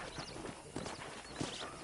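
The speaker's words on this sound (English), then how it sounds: "let's see if you can still ride a horse" Faint, rhythmic clip-clop of horse hooves at a walking pace in a video game, three or four soft strikes, distant and quiet with no talking.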